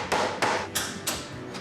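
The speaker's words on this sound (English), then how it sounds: "Hammer that out a little." A hammer repeatedly strikes sheet metal while shaping a car door panel on a handcrafted Ferrari 250 GT replica in a workshop garage, giving four or five evenly spaced, loud, ringing metallic blows.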